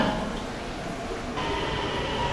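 A Kintetsu Hinotori express train rumbling and hissing steadily with a broad wash of noise, growing slightly louder partway through as it pulls into a station.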